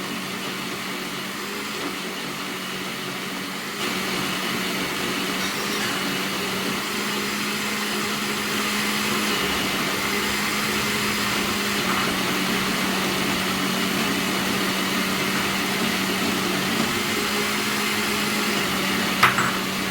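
A blender grinds mint chutney with a steady, loud motor whine that runs without a break, close by and alone, with no talking over it.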